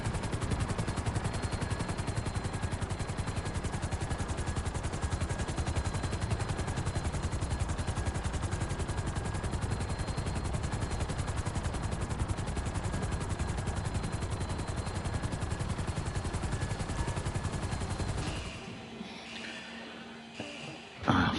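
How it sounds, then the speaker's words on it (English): A helicopter in GTA Online, damaged by gunfire, runs with a rough, rapid chopping rattle that stays loud and continuous for about eighteen seconds before dropping away abruptly. "My helicopter doesn't sound good. Must have been caught in the crossfire and taking some shots."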